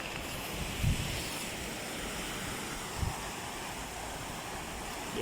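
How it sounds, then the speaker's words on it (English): Ocean waves roll onto a shore near containers and fishermen, a constant broad wash of surf with a couple of low thumps as breakers land, wind noise mixed in. "The waves."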